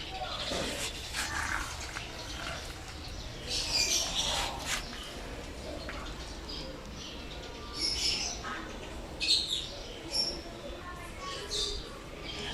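Pet lovebirds chirp and squawk in short scattered bursts nearby in a home, while someone talks over them.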